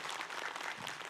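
Studio audience applause at an Islamic religious talk show, a dense, steady wash of many hands clapping at moderate level, with no voices over it for the whole second.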